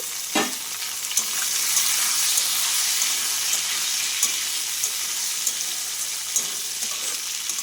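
Diced onions, tomatoes and capsicum sizzle steadily in a pan, a dense close hiss broken by occasional scrapes and clinks of stirring.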